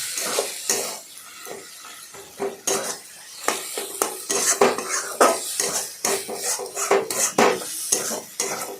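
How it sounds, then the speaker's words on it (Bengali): A spoon stirs eggplant mash cooked with a fish head and sugar in a pan, giving repeated loud metallic clinks and scrapes in an uneven rhythm over a soft sizzle. "চিনি দিয়ে ভালো করে নাড়াচাড়া করবেন।"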